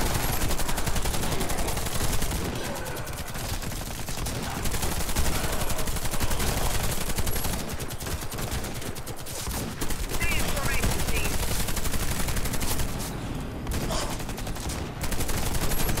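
Dense, continuous gunfire in the online shooter Warface during a Halloween zombie mode, rapid automatic bursts layered over one another for the whole stretch, loud and close, with voices talking underneath.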